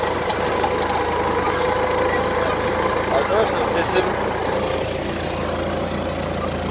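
A tractor engine idles nearby in a pistachio field, a steady low rumble with knocking that runs throughout under someone talking close to the microphone.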